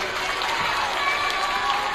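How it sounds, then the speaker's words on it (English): A crowd at a school club day assembly applauds and cheers in a gym-like space, a dense, continuous wash of clapping that lasts the whole moment at moderate volume. "round of applause for us"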